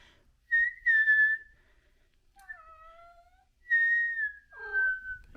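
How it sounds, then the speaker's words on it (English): A few short, clear whistled tones rise and fall with pauses between them, mixed with soft cat-like meows, quiet and close. "She likes it when I whistle."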